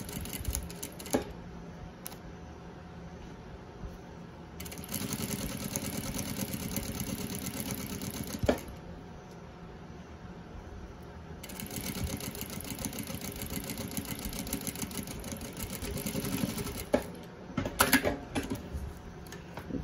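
Home sewing machine running in bursts as it stitches fabric close to zipper teeth while making a simple school pencil case, with steady mechanical whirring broken by short pauses.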